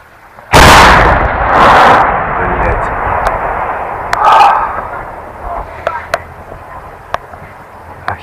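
Artillery fires shells in a war zone in Ukraine: a loud close blast followed by a second boom and rumbling echoes, then a fainter shot and several sharp distant cracks.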